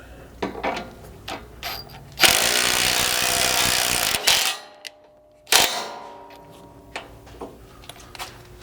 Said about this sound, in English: Then you'll just need a decent impact and a 3/4 socket to get these started.